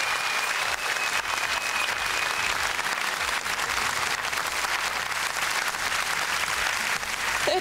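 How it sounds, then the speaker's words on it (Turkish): A studio audience on a Turkish dance show gives sustained, dense applause for the orchestra, a steady even roar of clapping throughout with a faint voice near the start. "büyük bir alkış istiyorum ya"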